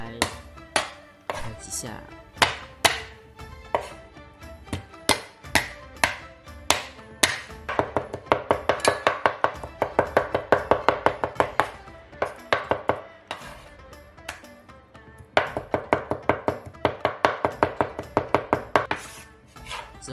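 A cleaver flattening and pounding food into a paste, probably for deep-fried wontons: a long run of sharp, close thuds against a board, coming in quick clustered bursts, with a few words spoken.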